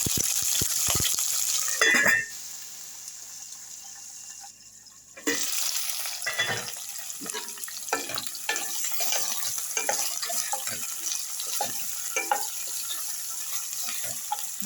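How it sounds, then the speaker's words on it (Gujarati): Mustard seeds sizzling and crackling in hot oil as tempering for a tindora (ivy gourd) curry: a steady close hiss scattered with sharp pops, a louder burst near the start and a brief quieter lull midway, no voices. "તો વઘાર કરી લેશું આપણે"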